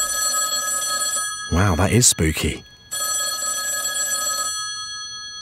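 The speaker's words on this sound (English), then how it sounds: "that phone over there is going to ring" A movie trailer telephone rings with a loud, sustained metallic bell trill that stops briefly while a voice speaks, then resumes ringing.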